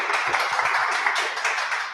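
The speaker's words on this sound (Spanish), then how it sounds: "le damos la bienvenida a Gloria con un aplauso" Audience applause welcoming a speaker to a talk, a steady wash of many hands clapping throughout, fairly close and continuous without voices.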